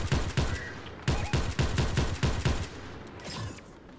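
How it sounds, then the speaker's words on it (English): Gunfire in Fortnite: a rapid string of about eight sharp, loud shots in an uneven burst, followed by softer, more distant shooting. "Someone shooting me from this mountain"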